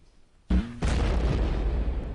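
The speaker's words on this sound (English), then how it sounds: "We spent a lot of time dropping grenades on the land to terraform." In an early Second Life virtual world, a grenade detonates on terrain with a sudden loud boom, followed by a sustained rumbling blast that lingers to the end, close and alone.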